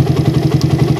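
A motorcycle engine fitted with a PWK carburetor idles close up, a steady, loud low thrum of rapid even pulses with light mechanical clatter and no talk.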